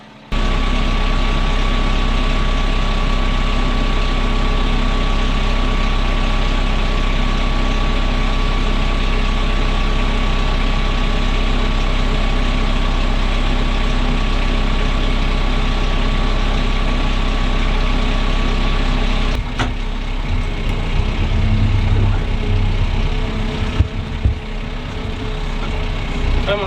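A shuttle-shift farm tractor idles steadily and loud for most of the stretch on a winter cattle-feeding job, its low diesel drone constant before shifting and roughening near the end.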